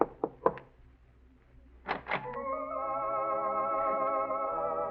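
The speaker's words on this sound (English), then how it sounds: "Curious but still cautious, you knock lightly on the door." Light knocks on an apartment door in a radio drama: a few soft raps, then two more after a pause, followed by music swelling in and holding steady.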